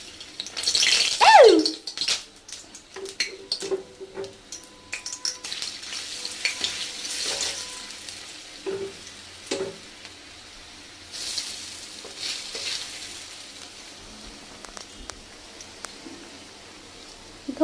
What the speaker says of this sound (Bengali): তেল তেতে গেছে, আমি ফার্স্ট একটা ধোকা ছাড়বো।